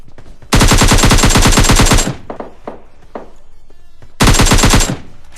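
Two loud bursts of rapid automatic gunfire in the video game PUBG Lite, the first lasting about a second and a half, then a few scattered single shots, then a second shorter burst, with no talk.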